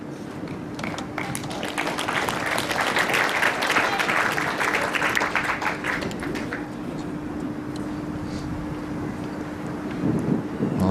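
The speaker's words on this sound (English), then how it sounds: "Gusts of wind, we're being told, around 30 kilometres an hour." Gusty wind, around 30 km/h, buffeting the microphone at an outdoor lawn bowls green during a women's singles final, a continuous rumbling roar with crackling bursts that swell in the middle.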